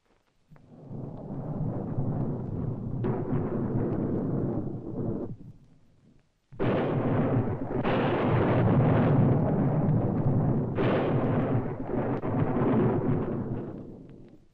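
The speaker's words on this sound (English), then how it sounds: "Did the lightning scare you?" Heavy thunder during a night storm, with long rolling rumbles in two extended loud bursts separated by a short quiet gap, dominating the scene without voices.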